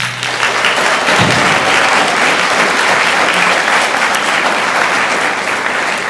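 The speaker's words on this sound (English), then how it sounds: "Acknowledging how great you are by clapping yourselves." A large audience at a national science fair final claps for itself, producing loud, continuous, dense applause that fills the room evenly from start to finish, with a brief low tone near the beginning.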